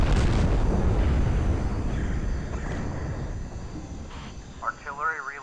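A heavy artillery explosion booms in the dinosaur-hunting video game Carnivores, a loud low rumbling blast that fades out slowly, followed by brief warbling electronic tones near the end.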